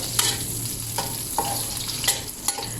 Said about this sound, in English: Now we are going to fry onions and potatoes together until the onions turn brown in color.